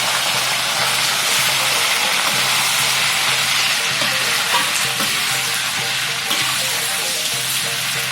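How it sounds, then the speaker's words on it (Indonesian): Spice paste sizzles and fries steadily in a pan on a home stove, a dense continuous crackle with occasional stirring scrapes, close and loud throughout with no talking. "Kita masukkan lagi, yaitu bumbunya kita goreng."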